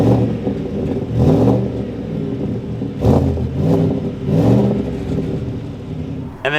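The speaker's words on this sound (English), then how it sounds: "Let's take a quick listen to the V8 engine." V8 engine of a 2021 Chevrolet Silverado 1500 Black Ops with dual exhaust and powder-coated tips, revved several times in close, loud surges that rise and fall over a rumbling idle, with no talking.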